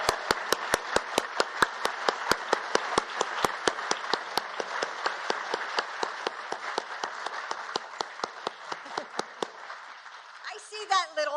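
Crowd applause for National Guard families at a holiday event, a dense sustained clapping with sharp individual claps standing out, fading out toward the end as a voice begins.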